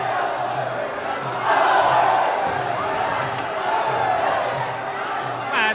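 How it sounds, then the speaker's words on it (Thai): Fans roar and cheer throughout a Muay Thai bout, a dense, loud crowd noise that swells near the middle and again later, with shouting voices mixed into the din. "แฟนๆได้เชียร์"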